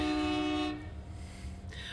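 A train horn sounds loud and sustained for under a second, then a fast train rushes past with broad rumbling noise.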